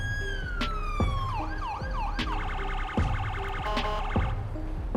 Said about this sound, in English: I did change out the siren actually from the one that we've been using